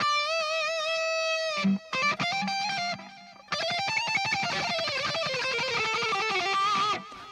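A distorted electric guitar plays a lead line of sustained, gritty notes and quick runs, with brief pauses between phrases.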